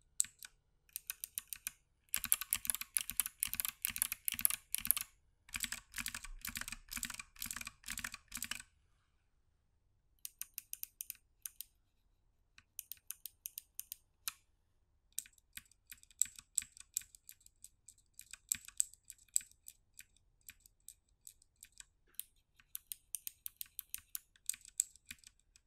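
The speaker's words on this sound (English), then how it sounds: "I prefer click bar, however some can perceive this as too harsh and therefore prefer the softer click of a click jacket switch" Clicky mechanical keyboard switches typed on in bursts, a close, crisp run of sharp clicks that pauses and resumes several times with no voices.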